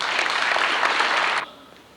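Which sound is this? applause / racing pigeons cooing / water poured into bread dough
applause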